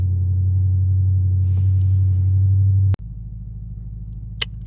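A 2021 Porsche Panamera GTS engine idles with a steady, moderately loud low rumble close by; it cuts abruptly near the three-second mark, followed by a quieter, rougher continuing drone and one brief sharp click near the end.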